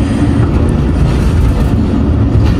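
Heard from aboard a passenger train in Pakistan, another train passes on the adjacent track toward Rawalpindi, making a loud, constant low rumble and roar that fills the whole moment without letup.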